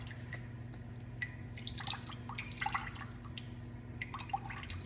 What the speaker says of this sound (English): I'm just taking a little spoon and just pressing some of that fluid out.